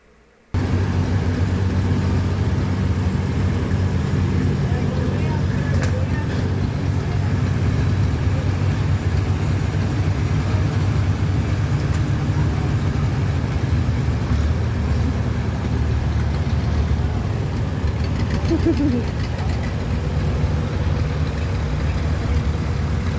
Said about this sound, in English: Driving that vintage tractor.